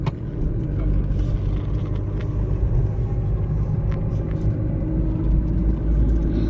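A car climbing the Kodaikanal ghat road, a hill-station route full of hairpin bends: steady engine drone and low road rumble heard from inside the cabin, continuous and fairly loud throughout.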